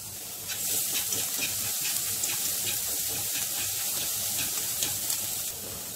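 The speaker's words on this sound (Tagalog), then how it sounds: "Lagyan natin ng 2 tablespoons of oil. Ayan, isusunod natin ang garlic." Garlic frying in two tablespoons of hot oil in a pan, a steady close sizzle and hiss that holds at an even level throughout without talk.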